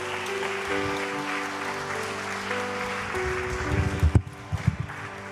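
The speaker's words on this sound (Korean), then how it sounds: "박수 쳐주세요" A church congregation applauds during a festival service, clapping running under sustained musical tones, swelling near the end before a sharp burst and fading scatter.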